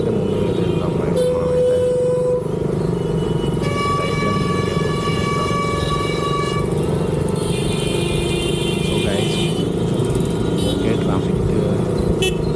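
Heavy Hyderabad road traffic rumbles close by, with car and motorcycle engines droning continuously and several sustained horn blasts layered over them, while people talk nearby.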